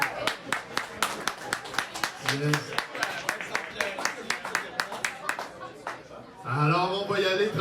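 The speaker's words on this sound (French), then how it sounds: "j'aimerais qu'on donne une excellente main d'applaudissements à nos musiciens" An audience at a Quebec event applauds the musicians with steady, fairly close clapping, and a voice speaks briefly near the end.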